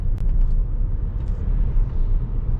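A Saab pulls away on a drive after a new torque mount is fitted, its engine and road noise forming a steady low rumble close by, with light clicks near the start.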